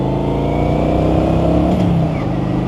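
A V6 Ford Mustang's engine runs loud and close in a sustained throaty drone that rises slightly as the revs climb, with a faint shift near the end.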